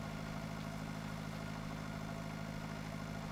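A Zetor tractor idles steadily in the farming game Pure Farming 2018, a constant low mechanical hum and rumble that holds evenly throughout with nothing else over it.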